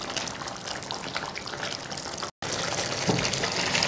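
Water is poured into an onion korma cooking on full flame, a continuous close splashing and sizzling trickle with one brief cut partway through.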